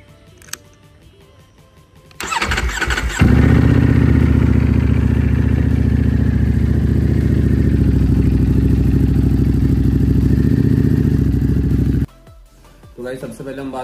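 Ducati Panigale V4 with a Termignoni slip-on exhaust cold starting: a brief starter whirr, then the engine catches into a loud, steady, rumbling idle that holds for about nine seconds before cutting off, leaving quiet background.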